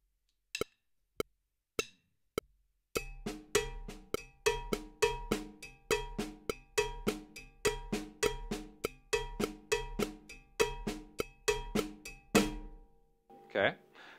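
A cowbell plays a cascara pattern from a Mozambique groove, starting with a few sparse clanks, then snare strokes fill the gaps in a dense, steady syncopated groove, ending with a short crash.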